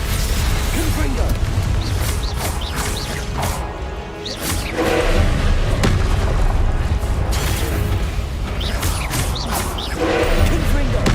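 Confringo blasting-curse explosions in the Hogwarts Legacy video game, repeated booming crashes and whooshes in a loud, busy battle soundscape, with someone speaking intermittently over the action.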